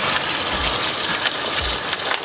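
Antifreeze coolant from a Ford F350 7.3 turbo diesel gushes steadily into a drip pan, a continuous close, loud liquid pour with a few low thumps.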